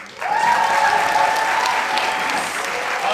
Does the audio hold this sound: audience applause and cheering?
yes